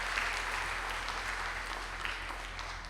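Audience applause at a conference event, a steady wash of clapping from a crowd, moderately distant, with no voices over it.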